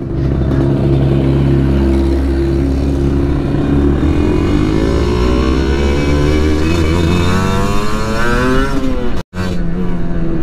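A Kawasaki Ninja SS 150 two-stroke motorcycle accelerates on a test ride, its loud raspy engine rising through the revs, dropping briefly at a shift, then pulling up again close to the rider.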